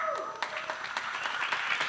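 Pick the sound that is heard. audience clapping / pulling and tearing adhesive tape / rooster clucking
audience clapping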